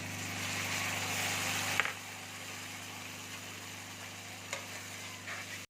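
Blended tomato going into a frying pan for shakshuka, with a steady loud sizzle that drops and softens after the puree hits the pan, plus a couple of light stirring clicks.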